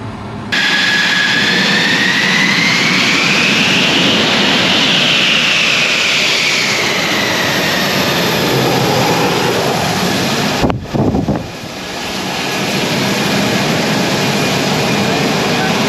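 An F-16 Viper fighter jet taxis nearby with a loud, steady engine roar and a whine that rises and falls in pitch. Wind buffets the microphone, and the noise briefly drops out before it resumes.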